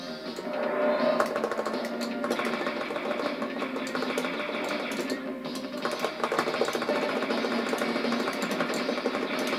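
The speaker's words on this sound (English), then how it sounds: "Some kind of engine blasts coming out there." Continuous whirring engine blasts from a ship in the Neo Geo shoot-'em-up Alpha Mission II, a steady dense mechanical drone with busy game effects layered on top, loud and unbroken throughout.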